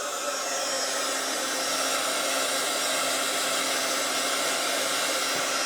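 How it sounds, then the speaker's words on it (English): A heat gun blowing to dry crinkled ribbon for a craft album, a loud, constant whooshing roar of hot air lasting the whole time without a break, no voices. "you can also hit it with your heat gun."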